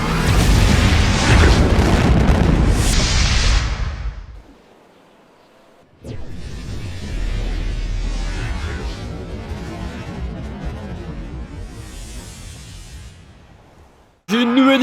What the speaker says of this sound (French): Explosion sur le toit de la Maze Bank dans 3,